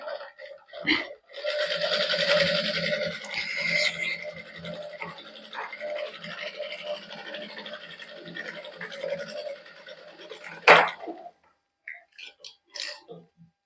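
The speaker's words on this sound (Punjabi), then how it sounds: "ਇਸੇ ਤਰ੍ਹਾਂ ਹੁਣ ਦੂਸਰੇ ਪਾਸੇ ਆਪਾਂ ਸਲਾਈ ਲਾ ਲੈਨੇ ਆ" Sewing machine stitching a garment neckline at a boutique, a steady mechanical whirr running for several seconds with a few short stops and restarts, fairly close and clear.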